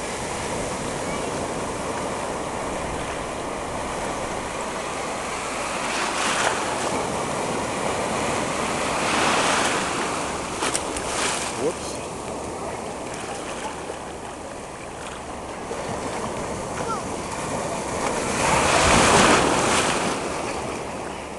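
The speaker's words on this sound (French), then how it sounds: "Oh, une grosse vague." Big ocean waves break and roll in a continuous wash of surf, with heavier crashing surges around the middle and again near the end, all under steady wind buffeting.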